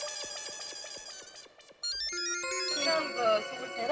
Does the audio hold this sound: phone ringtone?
yes